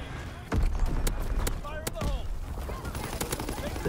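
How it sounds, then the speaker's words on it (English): Shotgun fire in the Call of Duty: WWII video game, several sharp blasts spaced irregularly over a steady background of game noise, with some whistling effects in between. "Freaking shotguns."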